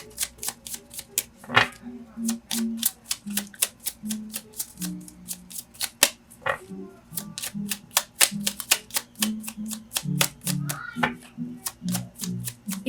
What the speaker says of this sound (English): You can fast forward this shuffling.